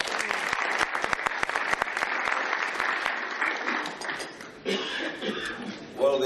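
An audience at a national conference on nation building and social cohesion applauds a youth speaker; steady, sustained clapping from a sizable crowd with sharp individual claps near the front, easing off toward the end.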